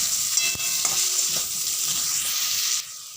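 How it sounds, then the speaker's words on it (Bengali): Potatoes fry in hot oil with salt and turmeric, a constant close sizzle with a few stirring clicks and scrapes, easing slightly at the end. "এবার আমি এই তেলে আলু আলুর মধ্যে প্রথমে দিয়ে দেবো অল্প লবণ আর অল্প হলুদ গুঁড়ো দিয়ে ভালো করে ভেজে নেব"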